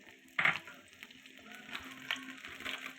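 Bay leaf, chopped ginger, dried chillies and cumin hitting hot oil for a dal tempering, a faint steady sizzle with a sharp crackling burst early and smaller pops after.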